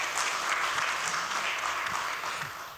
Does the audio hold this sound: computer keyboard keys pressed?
no